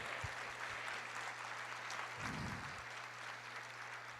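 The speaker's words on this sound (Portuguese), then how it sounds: "Aplauda o Senhor" Church congregation at a Portuguese-language sermon claps steadily in a reverberant hall, fairly soft and distant, with a low hum underneath and a brief voice partway through.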